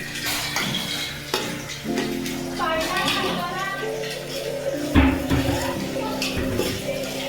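Onions with a pinch of salt being sautéed and stirred in oil in a pan, with clinks of utensil on metal and a steady low sizzle running under a person talking throughout.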